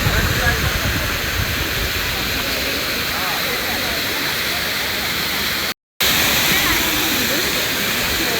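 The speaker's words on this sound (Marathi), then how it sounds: "हे बघा वॉटरफॉल, मिनी वॉटरफॉल।" A small waterfall produces a steady, close, loud rushing roar of falling water that holds evenly throughout, broken only by a brief cut.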